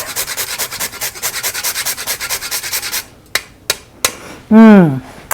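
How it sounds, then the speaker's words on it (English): Whole nutmeg scraped over a grater onto dates for cookies, a steady run of rapid rasping strokes for about three seconds, then a few separate scrapes, ending with a brief ringing tap. "And then I also like to add some nutmeg, and I always grind it fresh"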